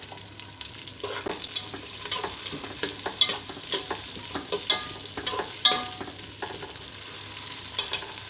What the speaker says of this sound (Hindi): तो आधा कप तेल डाल रही हूँ, तो मैं ये प्याज डालूँगी और ये लहसुन भी डाल दूँगी।